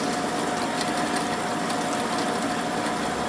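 A 29-layer steel billet being cut by machine: a steady, dense grinding and mechanical whir with a constant tonal hum, loud and unbroken for the whole stretch, with no voices.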